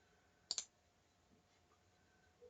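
Two quick computer mouse clicks close together, crisp and near, followed by a quiet room with faint background hum and a soft tap near the end.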